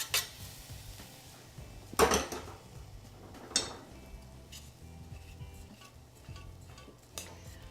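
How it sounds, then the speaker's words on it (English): Hot sweet potato syrup being stirred into an oat and nut mixture in a bowl, with scattered clinks and scrapes of a utensil against the dish, a few sharper knocks standing out among quieter mixing noises. "Now this hot syrup is going to go over my oat and nut mixture, and I'm going to mix it till it gets all evenly coated."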